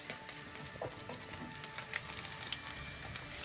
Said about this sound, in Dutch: ik ga die in die boter en olijfolie bakken